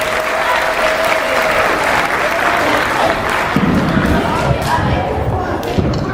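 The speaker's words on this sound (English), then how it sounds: "Give our babies a round of applause." An elementary school audience at a Black History program claps for the children, a dense, loud, sustained applause with crowd noise and a few thuds throughout.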